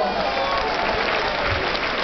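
Big crowd applause welcoming a singer at a music event in Minturno, a steady dense wash of clapping filling the whole stretch at close range.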